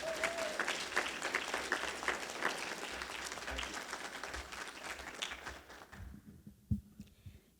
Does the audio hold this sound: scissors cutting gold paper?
no